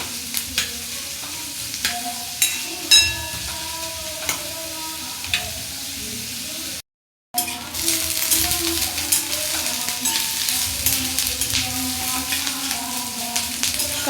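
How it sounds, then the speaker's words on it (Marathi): Onion sizzles and fries in a pan until golden brown, a steady crackling hiss broken by repeated stirring scrapes, with a brief silent gap midway and no talking. "कांदा चांगला भाजून घ्यायचा आहे गोल्डन ब्राऊन होईपर्यंत सोनेरी रंग येईपर्यंत आपल्याला कांदा चांगला भाजून घ्यायचा आहे"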